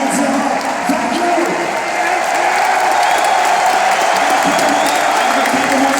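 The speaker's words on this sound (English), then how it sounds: "Give a big hand for the best teammates ever." A packed esports arena crowd at the StarLadder Major Berlin 2019 claps and cheers in a dense, steady roar that fills the whole stretch without pause.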